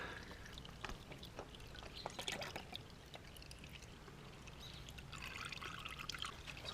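Old engine oil drains from a Suzuki V-Strom 1000 motorcycle into a pan, a faint continuous pouring trickle with light splashes.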